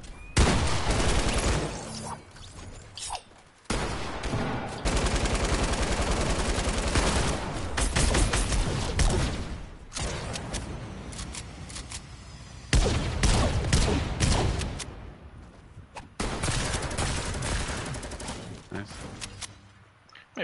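Rapid automatic gunfire in the Fortnite video game comes in loud, dense bursts separated by short pauses, with repeated volleys across the stretch.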